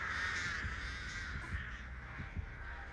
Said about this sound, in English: It's okay, it's just crows.